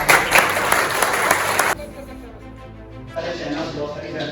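An audience at an organ donation and brain death awareness event claps loudly for the district administration for under two seconds, then the sound cuts to quieter room tone and a murmuring voice.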